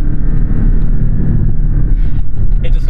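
A Porsche 718 Cayman GTS with a turbocharged boxer four runs loud and close, giving a dense low drone mixed with wind buffeting, and no voices over it.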